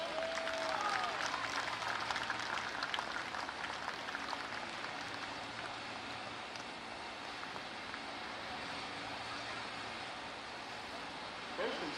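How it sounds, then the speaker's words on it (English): An audience at a 2024 Class 1A District 1 track meet awards ceremony gives a round of applause, a steady, fairly soft wash of clapping that carries evenly from start to finish, slightly distant and roomy. "Ladies and gentlemen, let's give a round of applause to Noah Sharpland"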